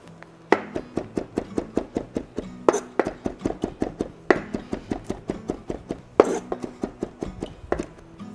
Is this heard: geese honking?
no